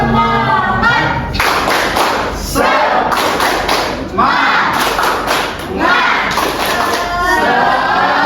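A classroom group claps a fast cheer rhythm together, loud bursts of patterned hand claps and thumps separated by brief pauses, with some shouting voices mixed in.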